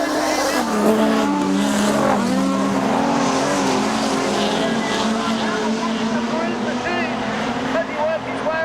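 Modified production race car at Kingaroy Speedway, a dirt oval, screaming along with the engine note rising and falling as it is thrown sideways, under continuous excited race commentary.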